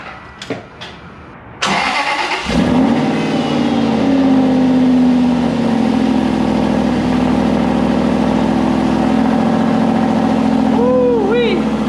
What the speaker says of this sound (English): I guess this will be the last cold start on this car in stock form